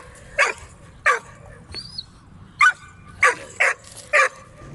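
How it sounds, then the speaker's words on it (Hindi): Repeated dog barks from a security and hunting dog offered for sale at a dog seller in Peshawar, about seven sharp barks in uneven bursts, fairly close, with a faint whine between them. "ये बहुत अच्छा कुत्ता है"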